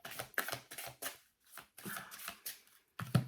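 A deck of tarot or oracle cards is shuffled by hand, making soft riffling and sliding bursts in an uneven rhythm, close and quiet with brief pauses between.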